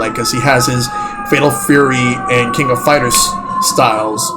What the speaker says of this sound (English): And there's a random ambulance.